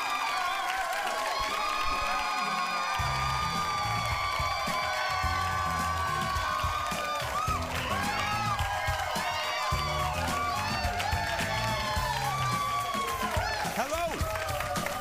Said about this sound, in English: y'all stop clapping real quick